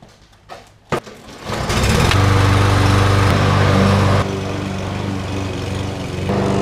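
A red lawn mower sputters, then its engine catches and roars to a loud, steady high-revving drone nearby, dipping slightly partway through before picking up again, no voices.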